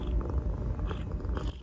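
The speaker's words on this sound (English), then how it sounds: "Can you hear her purring?" A female cat purring steadily and close up, a continuous low rumbling throb that runs the whole length without pause, with no talking over it.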